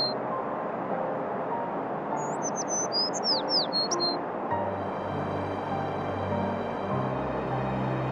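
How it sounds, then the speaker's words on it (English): Cartoon sparrow chirps in a bedtime-story animation: a short flurry of bright, quick tweets and squawks over a soft musical background, followed by a low rumbling music bed with no birdsong. "Oh, poor sparrow."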